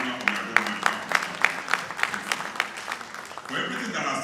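Conference audience in a hotel hall clapping in sharp, evenly spaced claps, like a rhythmic clap-along, before a louder, denser burst of applause near the end.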